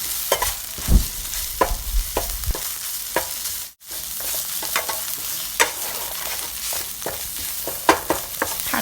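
Red curry paste and garlic are stir-fried in vegetable oil over low heat for a northern Thai pork curry. The sizzling is loud and close, with repeated scraping strokes of a spatula and a brief silent break partway through.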